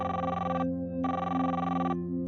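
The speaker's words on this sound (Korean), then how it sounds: "다시 한번 전화벨이 울려옵니다" A telephone rings in two electronic bursts, each lasting under a second, separated by a short pause, in a mystery and crime story. The rings play over a steady, low, droning background.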